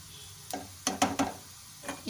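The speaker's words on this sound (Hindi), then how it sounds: "ये देखिए हमारा तड़का तैयार हो रहा है, इसे और ज़्यादा हमें गोल्डन कलर आने तक फ्राई करना है।" Tadka of spices frying in oil in a pan for Nawabi dal pulao, with a soft steady sizzle broken by several sharp stirring clanks and scrapes of a spoon against the pan, close and fairly quiet.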